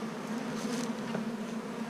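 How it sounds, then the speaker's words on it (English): Honey bees buzzing at a hive entrance, a continuous soft drone of many wings, fairly close but quiet and steady with no talk. "I'm noticing a lot of bees bringing in pollen here."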